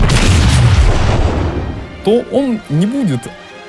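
A heavy naval gun blast from the World of Warships game booms loud and close with a long rumbling decay, then someone speaks briefly.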